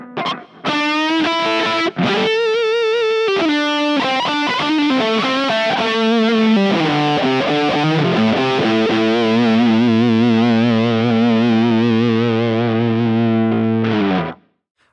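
Dueling Ninjas guitar overdrive pedal held down in its boosted ninja mode: a loud, heavily distorted electric guitar rings sustained notes and bends for about fourteen seconds before cutting off, with no talking.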